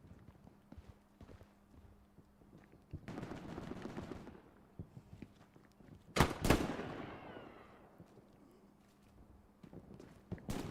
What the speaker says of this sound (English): MG42 at the ready for Joker